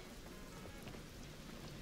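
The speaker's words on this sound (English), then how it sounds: "Looks like it's raining, but where the ship is, it's dry." Steady rain falls in the video game Starfield, a faint, even hiss of drops on surfaces with no other sounds over it.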